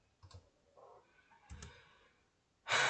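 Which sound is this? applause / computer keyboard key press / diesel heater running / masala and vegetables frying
computer keyboard key press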